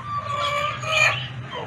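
A hen clucks softly nearby in short warbling calls, with a low murmur of background noise underneath.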